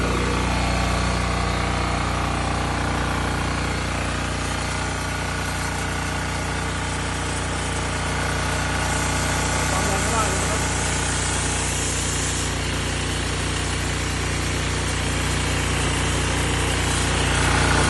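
A Yanmar L50A diesel engine drives a Maruyama MS450 water pump with a one-inch inlet, running steadily and loudly up close for the whole stretch without talk.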